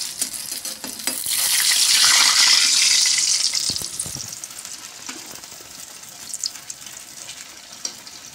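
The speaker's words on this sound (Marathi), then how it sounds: "हे बघा, ह्या पद्धतीनं असं लालसर तळून काढायचं" Medu vada deep-frying in hot oil to a reddish colour, a loud broad sizzle that swells over the first few seconds then settles into a softer steady crackle with small pops, no voices.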